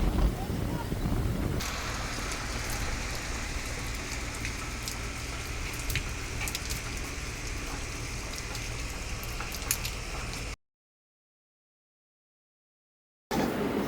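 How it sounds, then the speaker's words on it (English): Heavy rain pours down with gusty wind outdoors, a dense steady hiss with buffeting noise against the microphone. It drops out into a few seconds of silence before resuming. "Pretty windy and pouring down rain"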